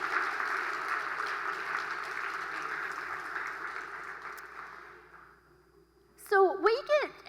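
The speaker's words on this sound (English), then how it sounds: "let's give them a round of applause for making it to a board exam" An audience at a community address claps and applauds for several seconds, steady and moderately loud, then the applause fades out into near silence before a voice speaks at the end.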